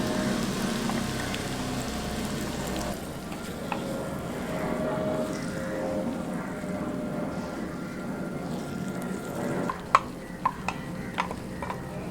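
Ground masala frying in a pan for okra curry, a soft steady sizzle with stirring, then a few sharp clinks of a utensil near the end; no talk.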